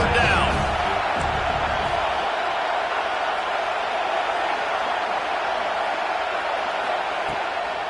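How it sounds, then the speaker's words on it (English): A college football stadium crowd roars behind the defense on third down, a loud sustained wall of cheering and yelling that swells early then holds steady, with distant whoops and no clear speech. "Decibels rising as the crowd gets behind this defense on 3rd down."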